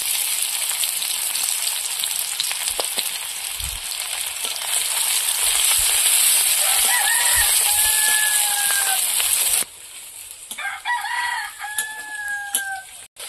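Chopped onion and garlic sizzle loudly in hot oil in a village wok, a constant bright hiss that drops away sharply near the end, while a rooster crows twice nearby.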